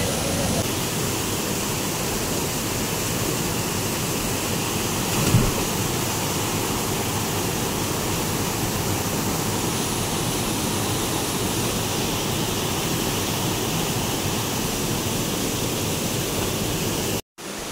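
A hidden jungle waterfall roars in a constant, dense rush of falling water, loud and close for the whole stretch, with a brief thump partway through and an abrupt cut near the end.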